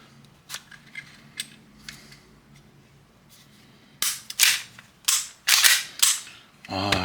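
A TNT Hi-Capa airsoft pistol fitted with a TDC hop-up unit, giving a few faint clicks and handling noises, then a run of about five sharp, loud, close snapping shots spaced roughly half a second apart.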